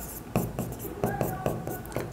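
Pen or pencil writing by hand while an office-equipment debit entry is set down in a school accounting journal, with short scratchy strokes repeating in bursts, close and fairly soft.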